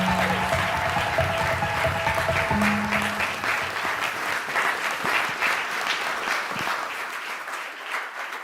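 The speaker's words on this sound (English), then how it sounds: "Please join me in giving Omar a huge round of applause as he comes on the stage" Sustained audience applause fills a large hall at a global student startup pitch competition final, a dense steady clapping wash that fades slightly toward the end.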